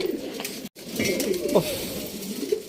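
A pair of pigeons cooing softly nearby, a few low throaty coos with a brief rustle, quiet and close.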